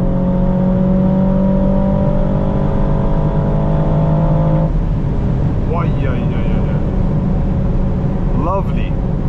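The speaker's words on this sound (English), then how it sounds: "the V8 rumble, and it motivates you to go sporty again" The V8 engine of an Aston Martin DBX 707 drones loudly from inside the cabin on a road drive, a steady low roar with tonal whine that shifts partway through, with a voice exclaiming over it.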